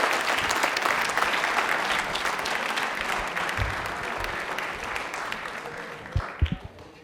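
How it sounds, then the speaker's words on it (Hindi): A studio audience at a television quiz show applauds a contestant who answered correctly, loud sustained clapping that thins out toward the end, followed by a few thumps and a faint voice. "तालियां एक बार जोरदार बजा दो भाई ललिता के लिए"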